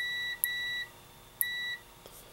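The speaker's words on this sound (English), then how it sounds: "digital voltmeter hooked up so that I get a continuity sound when I touch the ground side of the plug" Two short electronic continuity beeps from a digital voltmeter, evenly spaced about a second apart, each a steady tone over faint background hiss.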